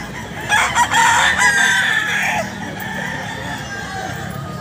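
Boston Roundhead roosters crowing at a weekly pet market held at a grotto, one long crow standing out near and loud over a busy background of other fowl and crowd murmur.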